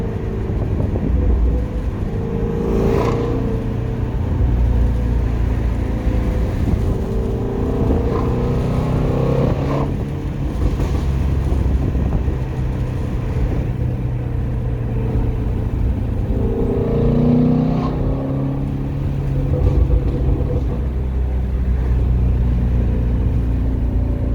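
Sports car engine, either a 2021 Toyota Supra A91 or 2018 Shelby GT350, driven on back roads in Massachusetts, a continuous loud rumble from inside the cabin that rises and falls through several rev swells, with no voices.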